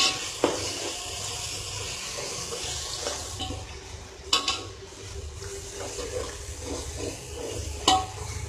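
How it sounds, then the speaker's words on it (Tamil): Mint and coriander sauté in a pan with tomatoes, a soft frying hiss under occasional stirring clinks and scrapes, close by. "புதினா கொத்தமல்லியும் நல்லா வதங்கிடுச்சு"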